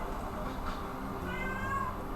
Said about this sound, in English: my cat's howling.